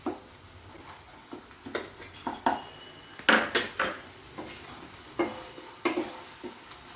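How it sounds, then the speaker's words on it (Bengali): Bengali spice paste is stir-fried in a pan for a bhetki fish cutlet, with a spatula scraping and stirring in short, uneven bursts over a soft sizzle. It is close and fairly quiet, with no talking. "আমি 1-2 মিনিট মতো এটাকে ভালো করে একটু কষিয়ে নিচ্ছি।"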